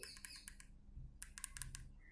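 Key presses on the keypad of a Jio feature phone, typed in two short bursts of crisp, quiet clicks with a pause between them.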